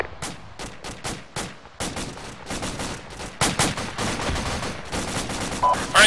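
Gunfire crossfire in the military shooter game Arma: dense, loud rifle and machine-gun bursts, some close and sharp and others more distant, firing in rapid irregular volleys with hardly a pause.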